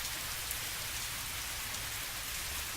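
Steady rain falls on a surface, a dense, even patter of raindrops with no pauses or voices.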